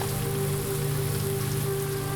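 Steady rain falls in the video game Blue Prince, a continuous dense patter that holds evenly throughout, with a low steady hum underneath and no voices.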